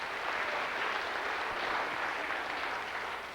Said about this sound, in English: give them another nice round of applause